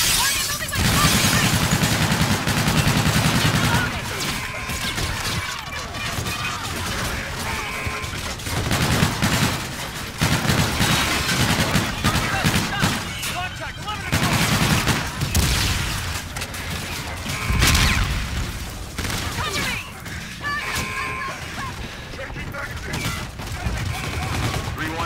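Sustained gunfire from a big battle in the Call of Duty: Infinite Warfare campaign: loud, rapid automatic bursts and heavy booms that come in waves over 25 seconds, with voices and battle noise mixed in.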